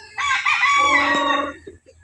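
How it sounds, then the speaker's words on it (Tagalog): A chicken about to be caught for grilling lets out a single loud, drawn-out crow-like call close by, ending in a couple of short clucks. "magdakop ta og manok kay atong ihawon"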